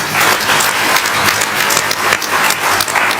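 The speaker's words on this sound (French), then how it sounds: "j'aimerais, encore une fois, qu'on acclame fort ces panélistes" Audience applause for the panelists at a social entrepreneurship conference panel, a dense, steady wash of many hands clapping together, loud and continuous throughout, with no voices over it.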